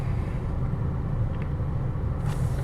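Steady low rumble of a 2002 Volkswagen Golf GLS with a 5-speed manual on the road, heard from inside: smooth, quiet engine and road drone, constant and even throughout, with no voices.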